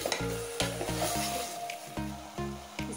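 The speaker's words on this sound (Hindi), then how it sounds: "जो मीडियम साइज के प्याज मैंने कट कर ली है वो डाल दूंगी और 4 मीडियम साइज के टमाटर अच्छे से कट कर कर मैं उसमें डाल दूंगी।" Onions and tomatoes fry in a pan for mutton curry, a steady close sizzle broken by repeated scraping stirs in a quick uneven rhythm, with no voices.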